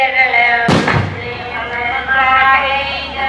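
Firecrackers go off at a crowded temple festival in Mathagal, one sharp loud blast landing near the start over a steady background din of the gathered crowd.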